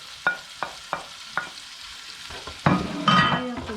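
Fried rice with red salmon stirred in a frying pan over medium-high flame: four sharp utensil taps against the pan, then a burst of sizzling and scraping as the mix is turned, close up.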